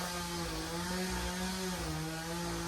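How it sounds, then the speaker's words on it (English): A chainsaw cuts wood during a yard cleanup, its engine holding a steady buzzing drone throughout, fairly distant and quiet, with no talking. "The chainsaw just kicked my butt."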